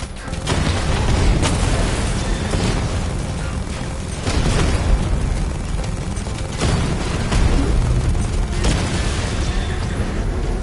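In Batman: Arkham Knight, heavy booming blasts and rumbling tank explosions roll in repeated waves, loud and dense, with mechanical clatter underneath.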